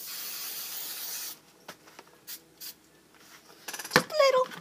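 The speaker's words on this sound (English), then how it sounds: "then you do have to spray hairspray on it." A steady hiss of aerosol hairspray lasts just over a second, close up, followed by quieter rustling and handling sounds.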